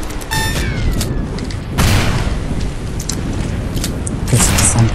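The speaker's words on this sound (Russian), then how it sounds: "Я сейчас поставлю здесь боевую турель." A combat turret is set down and starts firing in the shooter Loadout: a mechanical clatter and rising whirr, then heavy booms and bursts of gunfire, loud and close, with scattered impacts between.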